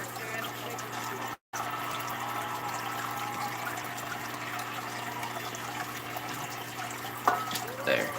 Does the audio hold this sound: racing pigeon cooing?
no